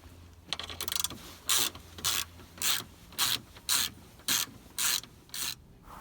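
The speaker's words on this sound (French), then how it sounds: "Avec une douille de 10 mm, enlevez ces 4 vis." Ratchet wrench with a 10 mm socket working four screws out of a metal part on an Alfa Romeo GTV V6 3.0 24v, heard as regular bursts of close, rasping ratchet clicks separated by short pauses.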